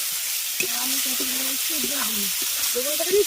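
Fried potatoes are stirred into sizzling spices in a pan for a Bengali fish curry, a constant frying hiss under a voice talking throughout, with an occasional scrape of the spoon.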